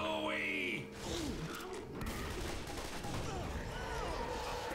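Gunfire in the video game Left 4 Dead 2: rapid, dense bursts of shots with mechanical clatter, running continuously at close range under other game noise.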